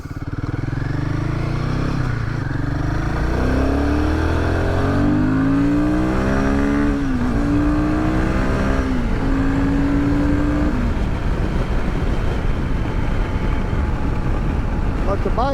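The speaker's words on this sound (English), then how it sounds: "But the bike runs amazing." A motorcycle running on the road, its engine loud and close, droning and rising and falling through gear changes, with heavy wind buffeting throughout.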